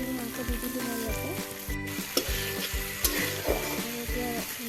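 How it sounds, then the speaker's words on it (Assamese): Meat stirred and fried in a pan sizzles continuously under prominent rhythmic background music, with occasional scraping stirs. "এতিয়া ধুনীয়াকৈ লৰাই ভাজি আছোঁ তেতিয়ালৈকে মাংসখিনি সিজি নাযায়"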